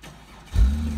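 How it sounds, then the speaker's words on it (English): A car engine in a friend's car doing skids: quiet low noise, then a sudden loud surge as the engine revs up and holds a strong, low, droning roar. "Today, we're doing skids in my friend's car."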